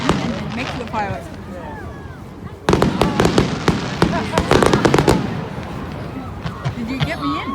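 Fireworks bursting outdoors on a cold night: a rapid run of sharp cracks and pops clusters loudly in the middle, with lighter scattered bangs before and after, and people talking throughout.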